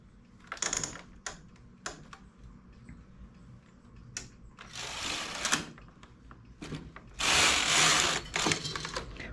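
A knitting machine carriage drawn across raised needles to knit a row in the main yarn colour. Clicking and ticking come first, then two longer rattling swishes as the carriage slides across, close and fairly quiet.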